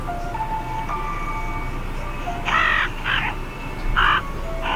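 Crow caws near a pumpkin patch: several loud harsh calls in short bursts, some single and some doubled, over a steady background hum and faint tones.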